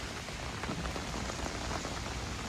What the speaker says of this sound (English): It's really pouring today.